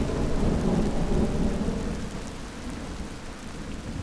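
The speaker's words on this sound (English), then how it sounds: "It's super stormy." A thunderstorm rolls through with steady heavy rain and a deep, low rumble of thunder that is strongest early and then eases into the ongoing downpour, with no voices.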